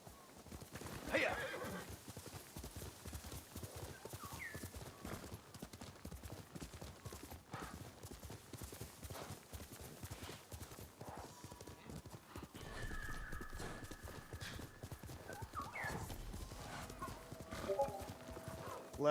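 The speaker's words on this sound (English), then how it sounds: "You're a good horse, Kage" Horse hooves clip-clop at a steady gait with occasional neighs in the video game Ghost of Tsushima, moderately loud over a faint background.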